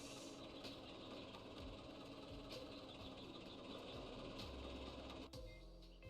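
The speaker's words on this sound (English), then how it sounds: "The engine is a bit loud." A loud video-game engine drones steadily and close, with a low rumbling, knocking texture that holds for several seconds before a brief dip near the end.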